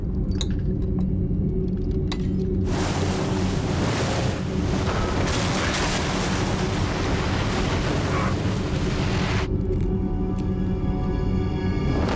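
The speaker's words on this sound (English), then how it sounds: "A peripheral wave 6 meters high crashes into New York." Giant ocean wave, six meters high, crashing into New York City: a broad, dense roar of rushing water that surges in after about three seconds and holds loud for several seconds before easing back, over a constant low rumble.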